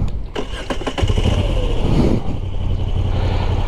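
Moto Guzzi V85TT 2024 motorcycle engine starts with a loud cranking burst, then catches and settles into a steady, close idle rumble.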